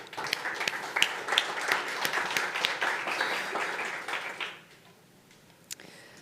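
Audience applause at a startup pitch event, a dense burst of clapping from a crowd that fades out after about four and a half seconds, leaving near silence.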